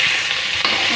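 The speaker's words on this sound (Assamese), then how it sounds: "কাটি থোৱা বিলাহীকণ ইয়াতে ঢালি দিছোঁ।" Chopped tomatoes hit hot oil in a pan for an Assamese fish curry, setting off a loud, dense, continuous sizzle close up that fills the whole brief moment. No one speaks.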